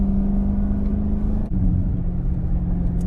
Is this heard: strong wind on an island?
no